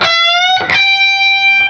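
Electric guitar holds a bent note while a second note rings over it, sustained and loud with a couple of picked attacks, alone with no voice.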